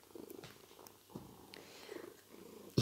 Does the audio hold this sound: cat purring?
yes